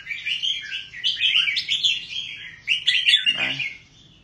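A captive songbird trained for singing competitions gives quick, bright chirps and warbling trills in two close, lively bursts, ending with a brief lower note, with nothing else heard.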